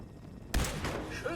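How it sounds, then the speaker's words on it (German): Ambush gunfire in Fallout 4: a sudden loud burst of shots breaks in after a quiet stretch, followed by a continuing rattle of fire with faint game noise. "Schüsse aus dem Hinterhalt."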